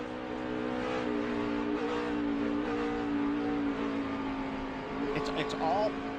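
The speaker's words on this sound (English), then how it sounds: "He's on the brake, and he's just blipping the throttle as he's downshifting all at the same time." Race car at the 2009 Toyota/Save Mart 350 braking into the last corner, steady engine drone with throttle blips as it downshifts near the end, under continuous commentary.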